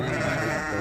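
A sheep at a crowded livestock market gives one short, dense bleat, loud and close against general market noise.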